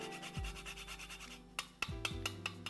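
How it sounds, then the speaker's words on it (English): Fresh nutmeg rubbed against a small grater, quiet rhythmic rasping strokes, a quick even series followed by a few sharper, slower scrapes, faint and close with no talking. "And it's really easy to grate. About maybe half of nutmeg."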